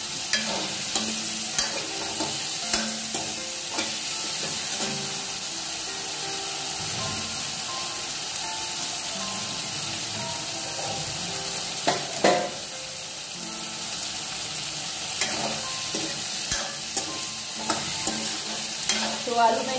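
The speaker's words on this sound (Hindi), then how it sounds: "आलू दो मिनट भून लेती हूँ" Potatoes stir-fried in a pan sizzle continuously, with repeated scraping and stirring strokes of a utensil over the steady frying hiss.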